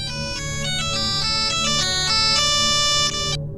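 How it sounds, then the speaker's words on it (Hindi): A phone ringtone plays as a sound effect in a narrated Hindi horror story, a loud, steady electronic melodic ring with repeating tones that stops abruptly near the end. "अचानक महेश का फ़ोन बजा।"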